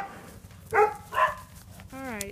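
A dog barks twice in short, sharp bursts indoors, then lets out a rising whimpering whine, close by over a low background hum.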